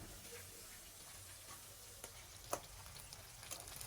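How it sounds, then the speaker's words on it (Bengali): Spice masala of coriander and cumin powder sizzles faintly in a pan as it is stir-fried for a hilsa fish and taro dish, a soft hiss broken by a few sharp spoon taps against the pan. "এখন আমি সুন্দরভাবে মশলাটা কষিয়ে নেব।"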